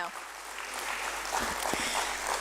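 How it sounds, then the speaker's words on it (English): Applause from the audience at a stock exchange listing ceremony for Neptune Logitek Limited, a steady wash of clapping from a crowd, fairly loud and continuous throughout. "can we please have a big round of applause for them once again"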